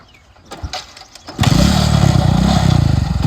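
A motorcycle engine starts after a few muffled knocks and shuffles, then settles into a loud, close, steady chugging idle with a rapid even pulse.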